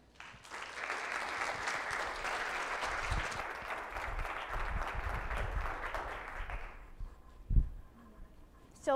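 A conference audience applauds steadily for about six seconds to welcome two speakers at a STEM education event, the clapping dense and sustained before it fades into a quiet room with a few thumps.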